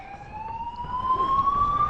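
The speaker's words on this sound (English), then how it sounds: "The sirens are on" Emergency vehicle siren wailing steadily with a slowly rising tone, moderately loud, accompanying a trail race broadcast along a long straight road, with low rumble beneath.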